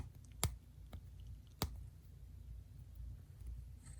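The feet of a tiny third-party Transformers tape figure, Magic Square MS-B28 Tapes Team, fold out with two sharp, close plastic clicks and a fainter tick between them, all in a quiet room.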